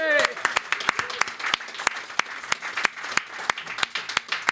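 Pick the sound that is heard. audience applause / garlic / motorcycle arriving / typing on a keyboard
audience applause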